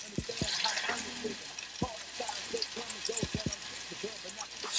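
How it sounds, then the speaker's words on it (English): Food sizzles with a steady hiss and crackle throughout, while someone talks over it in short bursts. "you're looking for that good sizzle."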